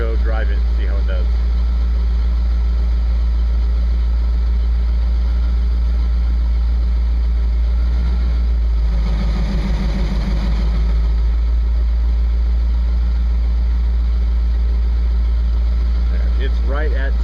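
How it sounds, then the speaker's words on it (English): International Scout engine warming up at idle, a loud, steady low rumble that holds unbroken throughout, briefly swelling a little near the middle. "we're going to let her warm up and then we'll see what she does"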